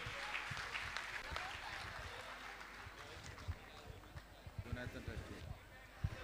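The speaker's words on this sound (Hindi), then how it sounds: "मैं चाहूँगा इन सभी पुण्यार्जकों का जोरदार ताली बजाकर इनका सम्मान करें।" An audience at a Jain religious gathering claps to honour donors, soft crowd applause mixed with scattered sharper claps and a voice speaking faintly over it.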